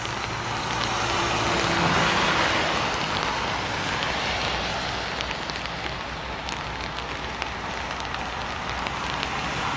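Light rain falling on a street in Seoul, South Korea, a steady close patter of drops over a dull road-traffic hum, with scattered sharper drips throughout.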